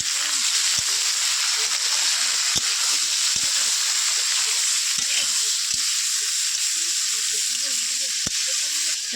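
Bitter gourd sizzles in a pan with salt and turmeric, a steady, bright hiss of frying broken by occasional sharp scrapes and clicks as it is stirred.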